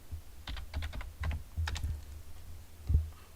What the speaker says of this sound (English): if I type in trading book on Amazon